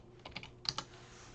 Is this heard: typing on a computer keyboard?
yes